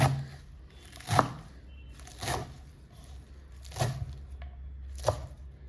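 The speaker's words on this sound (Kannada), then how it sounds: "ಈಗ ಎಲ್ಲ ಥರ ಸೊಪ್ಪನ್ನು ಕಟ್ ಮಾಡಿ ಹಾಕಿದ್ರೆ ಆಮೇಲೆ ಇದು ಮಾಡೋಕ್ಕೆ ಸರಿಯಾಗುತ್ತೆ." A knife chopping mixed leafy greens on a board for a Karnataka-style sambar, a handful of separate crisp cuts spaced about a second apart, close and clear.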